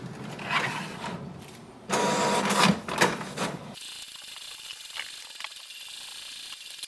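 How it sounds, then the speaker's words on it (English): An HP Smart Tank printer prints an alignment page, giving bursts of mechanical whirring and clattering feed noise, then a steadier, quieter motor hum as the page runs through. "Now the printer will print"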